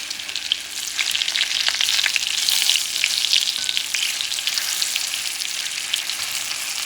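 Pompano fish with fresh thyme and salt frying in a pan, a steady loud sizzle running throughout as the food is stirred and mixed, with no talking.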